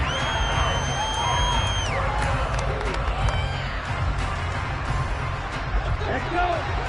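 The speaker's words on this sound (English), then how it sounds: "How about some applause for the defense there?" A football video game stadium crowd cheers and roars continuously with scattered whoops and clapping after a defensive stop, while a sharp whistle-like tone sounds near the start.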